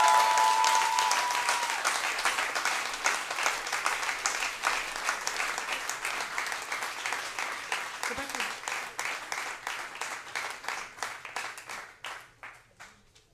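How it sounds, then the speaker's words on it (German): Sustained applause from a concert audience at a closing recital, dense and steady at first, then thinning into scattered individual claps that die away near the end. "Applaus für die beiden."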